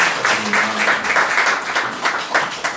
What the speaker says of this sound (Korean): 축하의 박수 해주시기 바랍니다